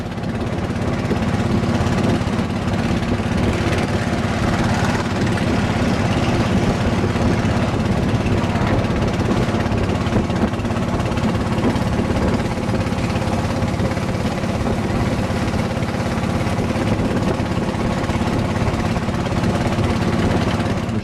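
Diesel bus engine driving a long-shaft propeller on a wooden canoe along a canal to Inle Lake, a loud, unbroken low drone and clatter running close and steady throughout.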